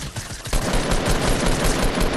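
Gunfire in a battle royale game comes as loud rapid automatic bursts, starting after a brief quieter moment and then rattling on continuously.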